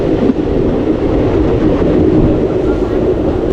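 Katwa–Ahmedpur passenger train rolling through rural Bengal countryside, a steady, loud rumble of wheels and carriage noise filling the whole stretch with no break.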